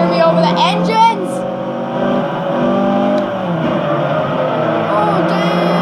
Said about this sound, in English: I don't think you guys can hear me over the engines!